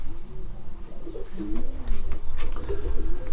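Janssen racing pigeons coo softly and repeatedly at close range, with low throaty calls and a few faint rustles around them.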